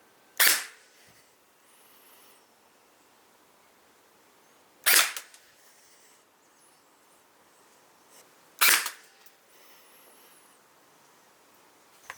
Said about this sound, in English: I'm actually kind of excited to shoot this like plastic little gun.